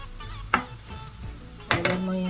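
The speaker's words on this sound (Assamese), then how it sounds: "এইখিনি মই ধুনীয়াকৈ গোটেইখিনি মিক্স কৰি ল'ম।" Spices being stirred and mixed in a sizzling pan while cooking drumstick curry, with two brief scraping strokes against a steady frying hiss.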